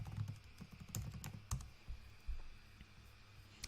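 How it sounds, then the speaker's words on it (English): Keys on a computer keyboard click in a short, irregular burst of a few taps with pauses between them, quiet and close. "If I type in business coach"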